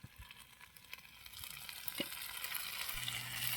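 Cassava (balinghoy) cooks in a pan, a soft frying hiss that grows steadily louder and denser over a few seconds, with faint scrapes, no voices.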